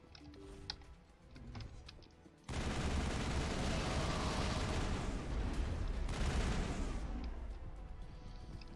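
Pistol fire from the squadmate Rex during a firefight in the video game Mass Effect, part of a loud, dense barrage of gunfire and battle noise that erupts abruptly after a quieter stretch and keeps going.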